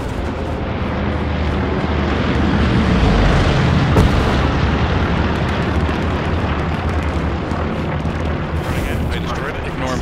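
A Hell Let Loose outpost is destroyed amid loud, continuous wartime din: booming explosions and rumbling blasts with aircraft-like roar, dense and close throughout, a sharp burst near the middle.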